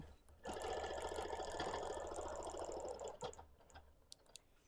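A sewing machine quilting fabric runs in a quick, steady burst of rapid stitching for a few seconds, then stops, leaving faint clicks and handling noises; quiet and close, with no talking.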